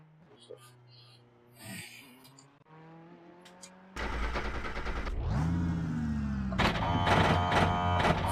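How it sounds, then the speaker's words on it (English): A race car engine in the iRacing sim racing game, a quieter passage with talk that gives way to loud, sustained revving with rising and falling pitch sweeps as the car accelerates. "I forgot how noisy this car is."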